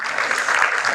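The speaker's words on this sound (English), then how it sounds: "Give her one applause." A university audience claps in a brief, dense burst of applause, loud and steady for about a second.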